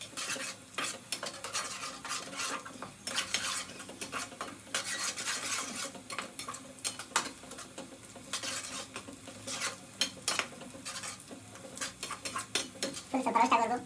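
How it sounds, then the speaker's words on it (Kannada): Curry leaves roasting in a pan for tomato gojju are tossed with busy, rapid utensil scrapes and metallic clatter over a light sizzle. The sound stays close and lively throughout, with no voices. "ಕರಿಬೇವು ಸ್ವಲ್ಪ ಹಾಕಿ ಮತ್ತೆ ರಪ ರಪ ಅಂತ ಮಿಕ್ಸ್ ಮಾಡಿ ಗೈಸ್"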